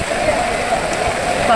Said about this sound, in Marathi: बापरे बापरे काय पाऊस आहे.